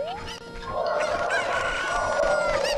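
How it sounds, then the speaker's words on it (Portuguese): Chickens in the video game Zelda Ocarina of Time, with several clucks and a rooster-like crow over a faint musical background, moderately loud and without talking. "Aqui tem mais 2 galinhas, se não me engano."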